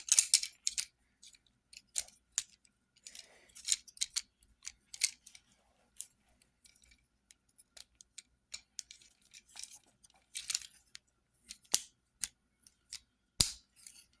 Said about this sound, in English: You just want to fold the legs in like that.